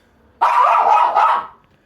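A dog inside a house lets out one loud, close, drawn-out bark or howl lasting about a second, with no talking over it.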